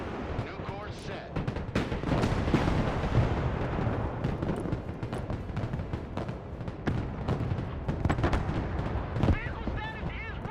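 Gunship pounding enemy positions in the war game Broken Arrow, a relentless barrage of booming shots and explosions, some sharp and near, others rumbling, with radio chatter heard faintly beneath.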